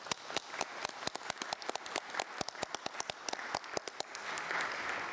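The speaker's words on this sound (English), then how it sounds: "let us give him a warm round of applause as he inaugurates this meeting" Conference audience at the 2017 London Somalia Conference applauds a president as he opens the meeting: a fairly faint, loose patter of individual claps that stays steady and thickens slightly toward the end, with no talking.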